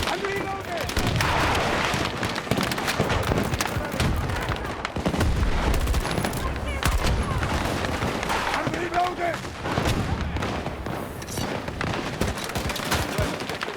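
Video game gunfire in a shooter, rapid bursts of shots and explosive cracks running nearly continuously, loud and close, with a person talking over much of it.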